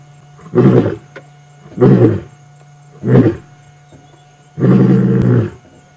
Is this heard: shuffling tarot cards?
no